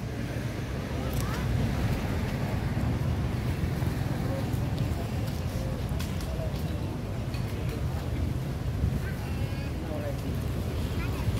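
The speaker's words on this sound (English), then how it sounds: "Getting a bit of a breeze now, which is nice, cools the place down a little bit." A steady breeze rushes past the microphone on a beach in Pattaya at sunset, a continuous windy roar with surf and distant activity underneath.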